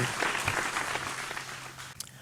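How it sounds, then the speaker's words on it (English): Audience applause at a televised singing competition, a dense burst of clapping that carries on steadily for a couple of seconds and fades slightly toward the end. "another big round of applause for the man from Madang"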